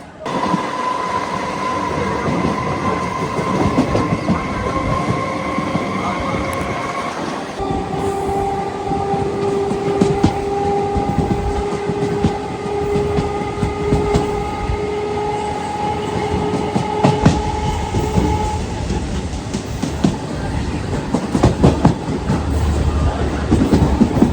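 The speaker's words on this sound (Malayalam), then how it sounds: "അപ്പോൾ നമ്മുടെ ലോക്കൽ ട്രെയിൻ വരുന്നുണ്ട്. അതുകൊണ്ട് പഴയ ടൈപ്പ് ലോക്കൽ ട്രെയിൻ കണ്ട." An old-type local train passes close by at a busy Chennai station in the evening, sounding a long horn held for several seconds while loud wheels and wagons rumble and clatter steadily throughout.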